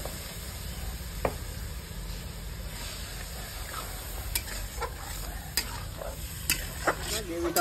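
Ginger and green chilli rinse water poured into a sizzling gravy in a pan, with a steady frying hiss, occasional scrapes and clinks of a spoon against the pan, close and moderately loud.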